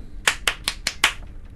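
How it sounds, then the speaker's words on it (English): Five sharp hand claps in a horror video game ring out at an uneven pace over about a second, fairly close and crisp, against a quiet low background hum. "Who is clapping at me?"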